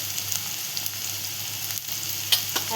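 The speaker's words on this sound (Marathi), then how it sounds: "आता आपण त्यात टाकूया थोडंसं हिंग, थोडीशी हळद" Asafoetida and turmeric sizzle in hot oil, a bright, close hiss with small crackling pops and a couple of sharper spits near the end, with no voices.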